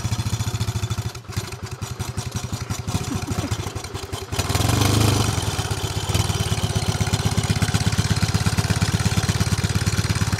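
A Bonneville motorcycle engine runs on the ride home, a loud, close, rhythmic thumping clatter, steady at first and then swelling briefly to a harsher roar before settling back into an even beat.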